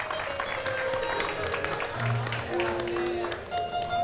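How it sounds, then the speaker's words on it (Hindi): Studio audience applause at The Great Indian Kapil Show, a steady wash of clapping under music and a host's voice, holding at even loudness throughout. "जोरदार तालियां फॉर द एंटायर परिवार of the great Indian couple show"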